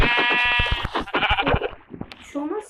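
A Minecraft sheep gives a close, clear bleat, followed by brief game sounds and talking.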